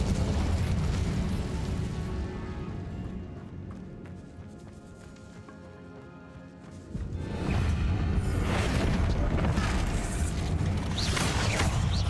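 Incendio fire spell cast in Hogwarts Legacy against a spider: a rushing, crackling burst of flame that swells loud after a quieter stretch and roars on steadily, with no talking.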